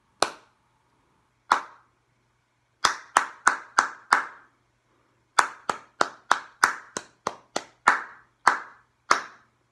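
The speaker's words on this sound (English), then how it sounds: "Let me clap the rhythm pattern to you." Hands clap out a rhythm pattern for a children's rhyme lesson: sharp, close claps alone, first two spaced single claps, then a quick run of four, then a longer mix of quick and evenly spaced claps.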